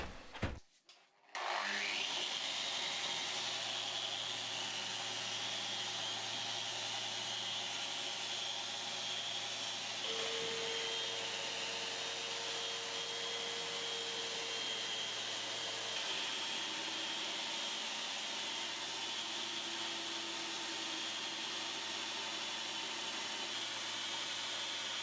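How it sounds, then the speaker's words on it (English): A power sander works across the top of a damaged timber kitchen table, starting after a brief knock and then running as a loud, steady whirring drone with shifting pitch for the full length, no voices. "I think step 2 is going to be to sand down the top and see what we've got to work with."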